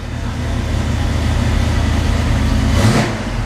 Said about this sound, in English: let me actually give it a little bit, just a little bit of gas here, just to open up that throttle blade just a hair